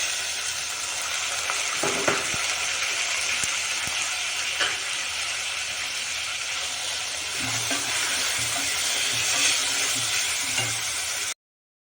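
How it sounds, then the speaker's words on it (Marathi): Asafoetida, curry leaves and chopped tomato sizzling in hot oil in a pan, a steady loud crackling fry with occasional bursts of spatter, no voices. "आता हिंग टाकलं कढीपत्ता टोमॅटो"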